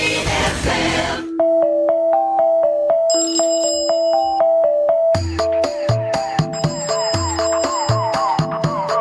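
A telephone ringtone plays as a repeating electronic melody of bright tones, loud and continuous, following a short burst of broadband noise at the start.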